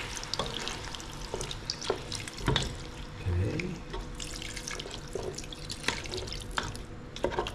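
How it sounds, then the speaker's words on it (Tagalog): Water poured into a pot of simmering lamb tongue caldereta with tomato sauce, a splashing stream with sizzling and dripping, punctuated by a few clanks of utensils against the pot; moderately close, no talking. "Lagyan po natin yung tubig."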